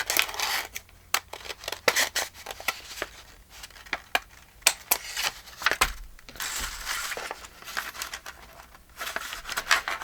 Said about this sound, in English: we're going to have to cut that off